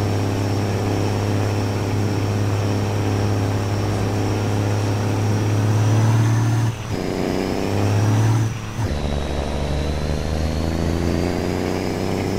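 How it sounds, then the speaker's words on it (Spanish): A Kenworth T800 truck engine pulls hard under load in Colombia, its loud droning roar broken by two brief dips like gear shifts before the pitch settles and climbs again. "Ese motor suena de los mil demonios."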